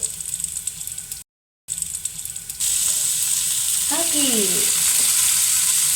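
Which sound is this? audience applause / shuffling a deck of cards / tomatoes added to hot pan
tomatoes added to hot pan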